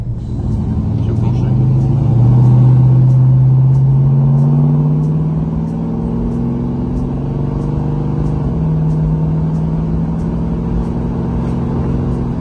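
A 1969 Dodge Charger R/T with its V8 engine drives along, a loud, close, low droning rumble that climbs slowly in pitch and briefly drops before settling into a steady cruise.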